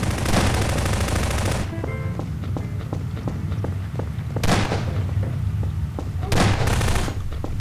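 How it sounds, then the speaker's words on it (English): Gunfire in the video game Garry's Mod Prop Hunt, loud rapid automatic bursts and scattered single shots layered over constant game noise, with heavy volleys at the start and again near the middle and end. "I hear gunfire and I like spin around."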